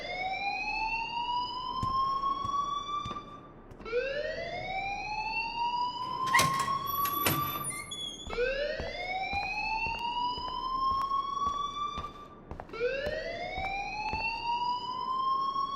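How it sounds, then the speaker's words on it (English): A loud alarm sounds in the Life is Strange video game, a repeating whooping tone that sweeps upward about every four seconds. Occasional clanks and knocks sound alongside it, with no voices. "please turn off that alarm since that's your job"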